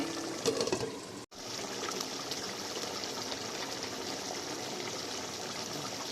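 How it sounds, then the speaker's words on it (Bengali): Boal fish curry bubbles in a covered pan on the stove, a steady, soft simmering hiss and burble that runs nearly throughout, broken by one brief drop to silence. "এবার দেখো আমার মাছের ঝোল পুরো ফুটে গেছে"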